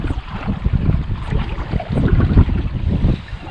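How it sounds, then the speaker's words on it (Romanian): Strong wind buffets close by in heavy low gusts on the Danube Delta, rumbling and uneven, with a watery, boat-like wash beneath. "Dacă se întețește vântul, e din ce în ce mai puternic"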